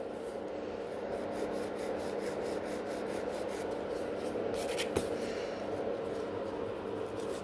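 A hand nail file rasps steadily across a gel nail during an infill rebalance, a close, continuous scratchy rubbing with even back-and-forth strokes and no talking.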